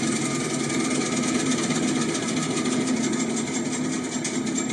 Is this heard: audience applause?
no